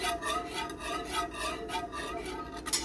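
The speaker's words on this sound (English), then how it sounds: "So I'm just stirring it all together." An aloe vera and rose water mixture with glycerin is stirred in a container, giving a soft, continuous scraping and swishing rub, quiet and close, with no pauses.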